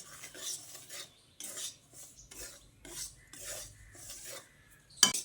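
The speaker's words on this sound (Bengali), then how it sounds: "ঘিয়ের মধ্যে সুজিটা দিয়ে অনবরত নেড়ে চেড়ে লো টু মিডিয়াম ফ্লেমে সুজিটাকে বেশ ভালো করে ভেজে নিতে হবে।" Semolina roasting in ghee over low to medium flame for sweet suji halwa, stirred constantly: repeated scraping strokes of a spoon against the pan in a regular rhythm, with a sharp clink at the end.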